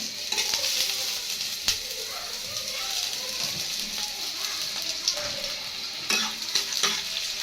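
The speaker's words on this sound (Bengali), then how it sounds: "এদিকে পেঁয়াজগুলো লাল লাল করে রেখে নেব" Onions fry in a pan of oil for a leafy-greens and fish curry, a continuous crackling sizzle with scattered sharp pops and occasional stirring scrapes, close and steady without talk.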